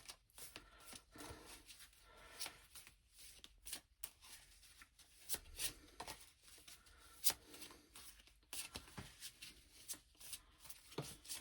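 Tarot cards being shuffled and drawn during a reading, a soft, steady rustle of cards rubbing and slapping together at close range, with irregular crisp flicks and no talking.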